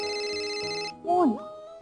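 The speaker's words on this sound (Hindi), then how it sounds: "फोन" A mobile phone rings with steady electronic tones, then a voice briefly cuts in over it and the ringing carries on quietly afterward.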